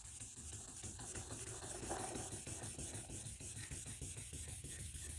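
Steady, close rubbing of 2500 grit sandpaper smoothing out a shovel-mark scratch, a continuous dense scrape with a faint back-and-forth rhythm and no talk.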